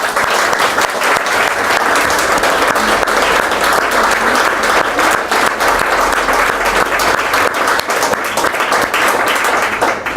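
An audience at a book festival meeting with an author applauds, dense and sustained clapping from a full room that holds steady for about ten seconds.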